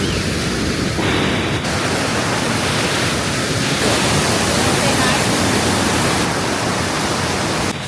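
A steady, roaring wash of falling water fills the scene at close range, broadband and constant throughout with no pauses.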